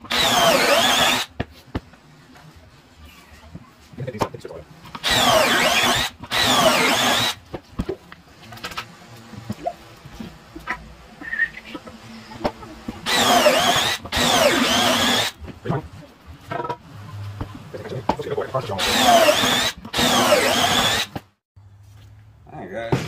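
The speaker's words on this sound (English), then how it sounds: "We're gonna set these up, drill for 8 pocket holes," A cordless drill whirs in several short, loud bursts drilling pocket holes in wood, separated by pauses, with quieter shuffling and handling noises between them.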